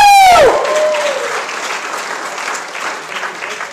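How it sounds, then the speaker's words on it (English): A large audience breaks into sustained applause, steady and dense, with a brief voice at the start before the clapping carries on alone at fairly close range. "Clap a little louder."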